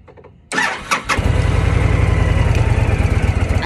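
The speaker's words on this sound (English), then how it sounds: "now I'm gonna start it up." A motorcycle engine cranks briefly, then catches and starts, settling into a loud, close, rhythmic idle with a steady low thump.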